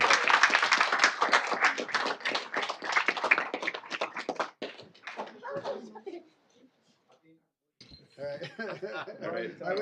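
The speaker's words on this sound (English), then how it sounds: "Let's give them a big round of applause" An audience claps for a youth soccer team at a city council meeting, a loud burst of scattered hand claps that fades out, with talking and chatter mixed in and more speech after a brief pause.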